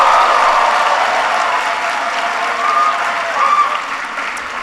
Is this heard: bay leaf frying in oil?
no